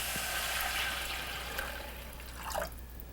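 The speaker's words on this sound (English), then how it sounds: "here I have 2 cups of, you can use either veal stock or beef stock. So just go ahead and pour that in." Veal or beef stock is poured into a pan, a soft continuous liquid splash and trickle close by, easing off with a few drips.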